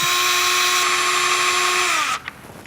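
A power drill whines steadily while boring a pilot hole into a door, the motor running loud and constant for about two seconds before winding down and stopping.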